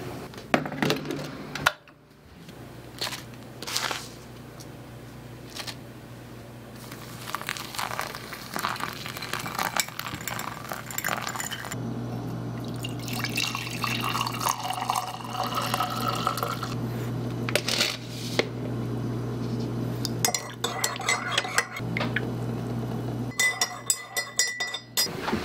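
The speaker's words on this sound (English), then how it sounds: "the making of the coffee" Coffee being made in a kitchen: clinking glass and dishes, running and pouring water and small drips over a steady low hum, with busy bursts of clatter throughout and no talking.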